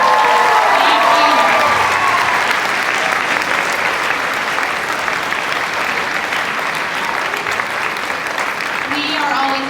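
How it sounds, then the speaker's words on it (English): An audience at the Otafest 2017 anime event gives volunteers a round of applause: dense, steady clapping from many hands that runs loud and unbroken the whole way through. "So if we could give them a round of applause"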